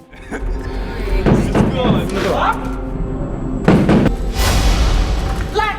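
Heavy thuds of a door slammed shut in a room during a tense scene, two loud booming impacts with rumbling tails amid dramatic film sound and some speech.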